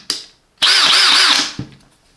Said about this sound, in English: There is the cordless drill.